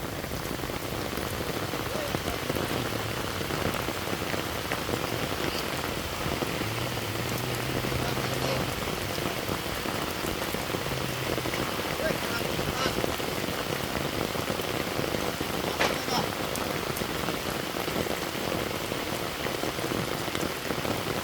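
Heavy rain falls steadily at a fish-catching spot, a dense, loud hiss of drops hitting surfaces that continues unbroken for the whole stretch, with a voice speaking now and then beneath it.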